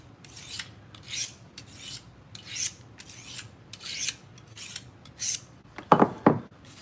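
A toy being trimmed and filed: a series of short, rhythmic rasping strokes, fairly close, followed by two sharper scraping or snipping bursts near the end, with no voices.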